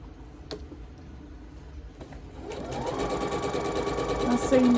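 A sewing machine starts partway through, its motor rising into a steady stitching whir up close, after a few clicks and a voice speaking nearby.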